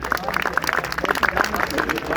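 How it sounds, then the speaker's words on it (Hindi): At a college bonfire night party, an audience claps vigorously in quick, overlapping bursts, the applause fairly loud and close, with voices mixed in. "जोरदार ताली होनी चाहिए।"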